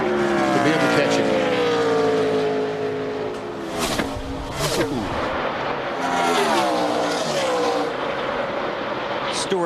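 NASCAR stock cars roar at full throttle around the oval, engines whining in pitch sweeps as they pass, with a commentator talking continuously over the loud racing noise.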